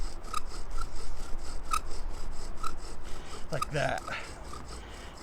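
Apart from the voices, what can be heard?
bow drill spindle rubbing wood to make friction fire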